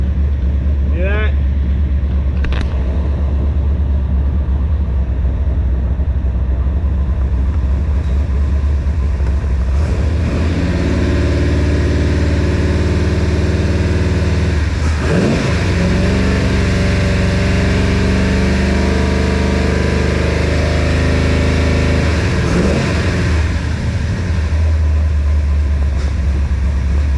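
A 1965 Shelby Cobra with a 454 big-block V8 rumbles loudly and steadily, with deep low idle throughout and a couple of revving swells in the middle; brief voice sounds come through faintly.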